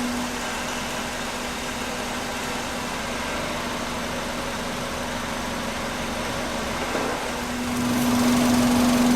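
A 1997 Subaru Legacy engine running during an automatic transmission fluid change, with a steady idle drone and a constant tonal hum that grows slightly louder and stronger near the end, close and without speech.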